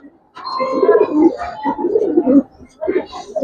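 Giribaz pigeons, senior breeding birds, cooing in a few close, low throaty bursts separated by short pauses.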